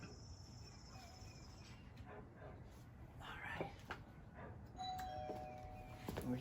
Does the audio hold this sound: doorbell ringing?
yes